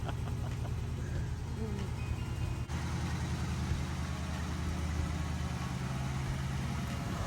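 1940 Ford Coupe engine hard starting, a continuous low mechanical churn and rumble that changes character partway through, steady and moderately loud.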